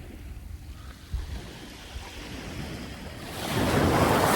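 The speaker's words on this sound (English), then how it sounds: "just that peaceful sound of the wave, no wind" Ocean waves wash steadily onto a beach at Seaford on a windless day, a low continuous rush that swells louder near the end, with no voices.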